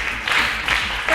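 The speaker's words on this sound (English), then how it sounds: "A round of applause." Applause from a school quiz competition audience, a short burst of clapping at moderate loudness that swells in waves over about a second, with voices mixed in.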